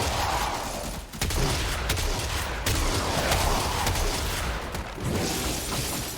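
Shotgun fire in the Warframe video game: dense, loud blasts in rapid bursts over a continuous roar of combat noise, with short gaps between volleys.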